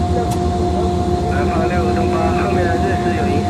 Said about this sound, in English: Start all engines.